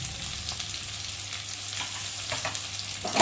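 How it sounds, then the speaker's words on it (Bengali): A spatula stirs spices into hot oil in a pan for a fish curry (fesa fish jhal) with garlic, cumin, ginger and mustard pastes and chopped tomato, giving a steady close sizzle with faint scraping. "দিয়ে একটু খুঁটি দিয়ে নেড়ে দেবো"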